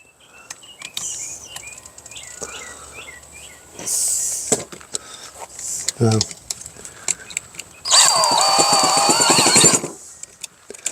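A power drill spinning a shaft whirs in two short bursts, the longer one a strained high whine, with scattered clicks and handling noises around it.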